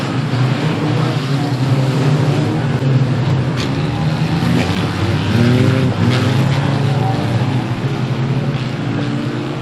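Street banger race cars at Standlake roar around the track in a dense, continuous wall of engine noise, loud and steady throughout with no talking over it.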